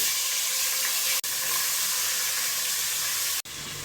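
Onions hit hot oil left over from frying fish, giving a loud, close, continuous sizzle and hiss with two brief breaks.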